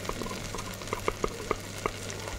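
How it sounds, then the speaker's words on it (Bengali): Masoor dal is stirred in a pan over a low, steady sizzle, with a quick run of close, light scraping taps from the spoon near the middle. "একটু মুসুর ডালটা ভালো করে নাড়াচাড়া করে নিচ্ছি।"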